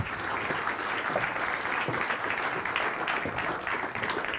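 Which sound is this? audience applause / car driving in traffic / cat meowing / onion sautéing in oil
audience applause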